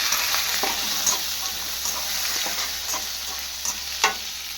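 Lentils, seeds and tamarind frying in a pan and stirred repeatedly. A steady sizzle runs beneath irregular scrapes and taps of the spoon against the pan, close and fairly quiet, with no speech.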